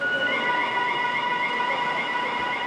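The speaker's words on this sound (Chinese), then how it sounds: "警报声就会响起来" An electronic warning alarm at a motorcycle licence road test course sounds as a steady, unbroken high tone, fairly loud and continuous over a faint background hum.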